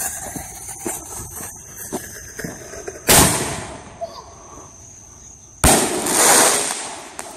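Two firework mortar shells set between stones for a July 4th display fire and burst, each a sharp, loud crack with a crackling tail, about two and a half seconds apart, after quieter rustling.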